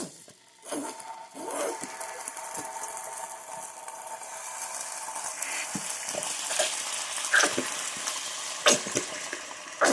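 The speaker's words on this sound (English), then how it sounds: "I'm going to add a full bottle of some sweet and spicy barbecue sauce." Sweet and spicy barbecue sauce poured into a hot pan for apple barbecue chicken, giving a steady close sizzle and frying hiss with scattered clicks and stirring scrapes throughout, no talking.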